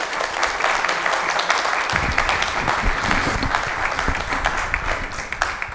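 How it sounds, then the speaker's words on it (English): Steady round of applause from the audience at a Bucksport, Maine town council candidates forum, dense clapping sustained at an even level throughout, with a few voices mixed in. "So if you give us a little round of applause."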